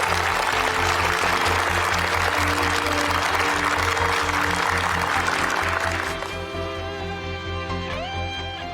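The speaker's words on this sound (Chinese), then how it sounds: "请各位弟兄给自己一个掌声。" Soldiers at a military training company clap for themselves, a dense burst of applause over a droning musical backing that fades, leaving held tones and a rising pitch sweep at the end.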